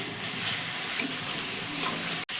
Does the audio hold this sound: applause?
no